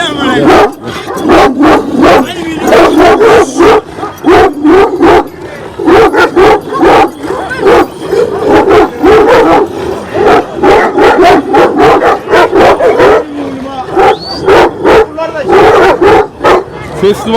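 Dozens of Kangal shepherd dogs bark loudly and constantly at a dog festival in Samsun Havza, deep overlapping woofs and yips crowding close, with a man calling over the din.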